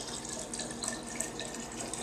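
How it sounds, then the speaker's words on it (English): Simple syrup is poured slowly into lemonade, a faint, steady liquid trickle with light dripping sounds, quiet and unbroken, with no talking. "We're going to slowly pour our simple syrup in."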